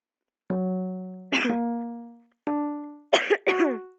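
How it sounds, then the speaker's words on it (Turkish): A series of harsh, close coughs: two longer coughs, then a quick burst of three, with short pauses between. "Öksürüyorum"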